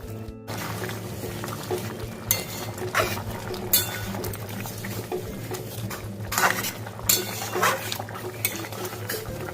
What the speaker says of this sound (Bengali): 9 মিনিট হয়ে গেছে, ঢাকাটা খুলছি।